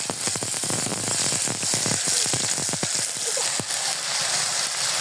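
Bay leaf and cinnamon frying in hot oil in a pan, a steady, bright crackling sizzle with dense popping ticks that thin out toward the end, close and fairly loud with no voice over it.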